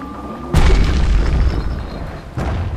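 A hand grenade blows up in the video game Bastion: a sudden loud boom with a long rumbling tail, then a second burst near the end.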